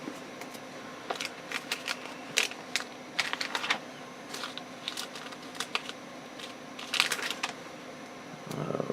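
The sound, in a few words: hymnal pages turning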